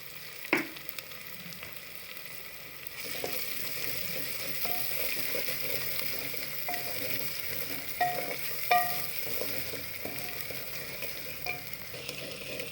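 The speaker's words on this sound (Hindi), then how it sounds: "तब तक ये चीज़ें फ्राई हो जाती है" Spices and ingredients for aloo chicken korma frying steadily in a pot, a continuous sizzle with occasional utensil clinks and stirring scrapes, close and unbroken, no voices.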